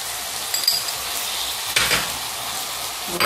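Chilli paneer frying in a pan with red chilli, chilli garlic sauce and tomato ketchup sizzles steadily up close while a spoon stirs and scrapes through it in a few short bursts.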